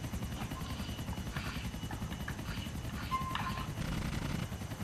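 A helicopter in GTA IV hovers nearby, its rotor a steady rapid chop of low thumping throughout, with faint game effects over it.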